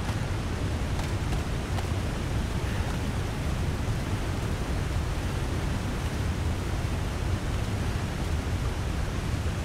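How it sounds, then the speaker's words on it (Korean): A waterfall roars in a video game, a broad, even rushing hiss that holds steady throughout without speech. "어디서 폭포 소리가."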